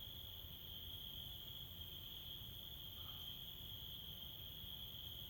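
Steady high-pitched insect chirring, like crickets at night, continuous and even throughout with no other sounds, by a riverbank during night fishing in the Dichensk area of Russia.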